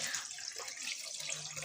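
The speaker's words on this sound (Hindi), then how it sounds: "अब मैं इसमें पानी डाल रही हूँ" Water poured from a cup into simmering curry gravy in a pan, giving a steady, continuous splashing and trickling that runs close and moderately loud for the whole stretch, with no voices.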